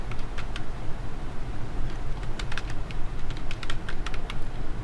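Keys clatter on a computer keyboard as a name is typed into an online job application form, a steady run of close, quick keystrokes over a low background hum, with no talking.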